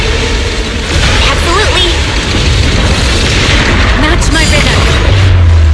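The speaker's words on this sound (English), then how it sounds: "Move in during the gaps between explosions." Repeated booming explosions from the video game Zenless Zone Zero, dense, loud and continuous low rumbling bursts under game voices and music.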